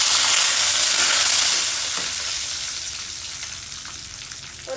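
Curry leaves dropped into hot oil for a tomato onion chutney, a loud close sizzle and crackle that gradually settles into a softer steady frying, with no talking.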